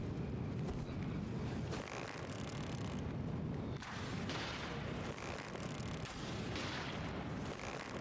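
Cannons explode in Elden Ring, a faint, continuous rumbling barrage with heavier booms at intervals of a few seconds and no speech over it.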